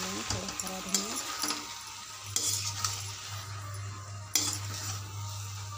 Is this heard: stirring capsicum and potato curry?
yes